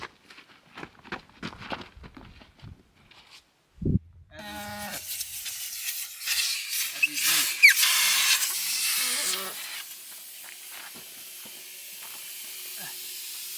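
Air hisses steadily out of an off-road vehicle's tires being aired down on a bumpy mountain trail in Utah. The hiss starts abruptly and carries on loud and close, after a few seconds of scattered voices and a sharp thump.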